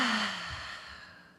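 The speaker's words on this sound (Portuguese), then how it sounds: "O que é muito legal da gente soltar pela boca a nossa respiração e fazer até um som." A single long, breathy exhale through the mouth, voiced at the start, fades slowly into silence during a breathing exercise.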